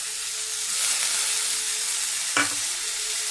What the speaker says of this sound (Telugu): ఈ తర్వాత నానబెట్టుకున్న శనగపప్పు ఒక గుప్పుడు వేస్తున్నాను